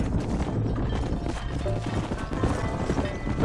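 Horse hooves clip-clop steadily in the Red Dead Redemption video game as a horse is led into a pen, mixed with game ambience and a few thuds, moderately close.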